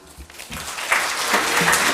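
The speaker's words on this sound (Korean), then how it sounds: "이재용 과장님께 큰 박수 부탁드립니다." An audience at a 2016 national dementia management workshop applauds, a dense, steady patter of clapping that swells slightly over two seconds.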